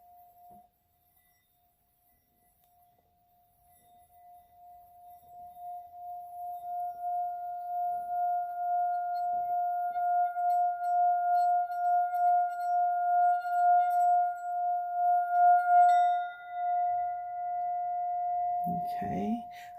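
A small singing bowl struck once, then ringing in a long, steady, clear high tone that swells and sustains with a faint shimmer, alone and fairly close, ending in brief handling noise.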